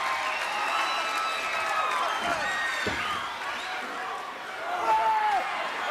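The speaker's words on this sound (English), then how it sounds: "And this capacity crowd coming alive." A capacity crowd at a 1986 televised wrestling arena roars and cheers in a broad, sustained wash, with excited whistles and shouts rising over it and a commentator talking throughout.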